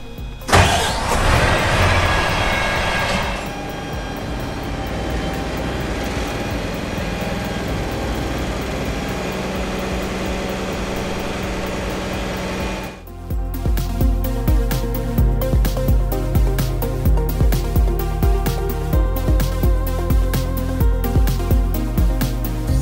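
A Wox Invader slurry pump trailer runs on hydraulics at 1250 RPM at a test facility. A steady, loud mechanical drone gives way partway through to a heavier, rhythmically pulsing churn.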